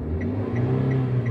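A car engine revs softly as a learner driver presses the gas pedal only lightly, giving a steady low, close rumble with a faint rise and no speech.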